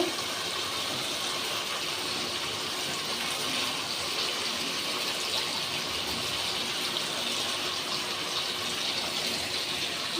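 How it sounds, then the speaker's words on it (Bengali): Water pours into a pan of fish curry with taro, making a continuous, even gushing sound that stays moderately faint throughout. "আমি জলটা দিয়ে দিলাম"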